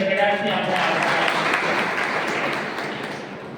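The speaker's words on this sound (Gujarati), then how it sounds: "તાળીઓના ગઢડાથી આપણે આભાર" Audience applause rolls through a PM Kisan programme gathering as thanks are given, a broad wash of clapping with a voice at the opening, gradually fading toward the end.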